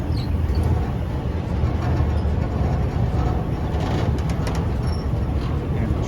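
A train rumbles along the Death Railway near Kanchanaburi, Thailand, in a steady, continuous roar with faint rattling, and no clear pauses.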